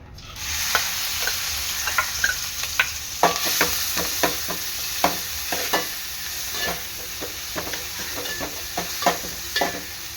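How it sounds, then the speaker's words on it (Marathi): Bay leaf and chopped onion sizzle steadily in hot oil for an Agri-Koli style chicken curry, with repeated sharp scrapes and clinks of a spoon stirring the pan close by, alone without talk. "यामध्ये मी टाकणार आहे तेजपत्ता आणि कांदा"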